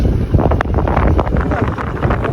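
Strong outdoor wind buffets the microphone near a flooded farm track, producing a loud, continuous low rumble with gusty swells and no pauses.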